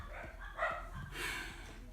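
Dogs barking indoors; a few muffled, overlapping barks and yips sound from the background over a steady room tone.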